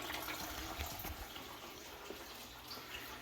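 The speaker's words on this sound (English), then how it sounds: "We got the coolant draining." Coolant drains from a Can-Am Maverick side-by-side during a first service, a faint continuous trickle and splash of liquid pouring into a catch pan, steady throughout with no voices.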